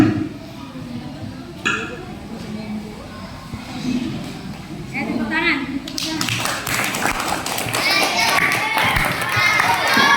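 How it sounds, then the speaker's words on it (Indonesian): Talk and light tapping give way to a burst of hand clapping in a classroom, scattered applause from a group, children's voices mingling, growing denser and louder toward the end. "Tepuk tangan."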